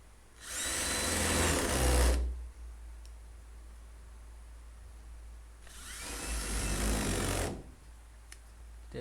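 A power driver whirs in two separate bursts of about two seconds each, driving screws back into a door lock latch under repair, close by with quiet pauses between.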